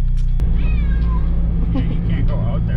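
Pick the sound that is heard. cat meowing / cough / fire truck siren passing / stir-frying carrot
cat meowing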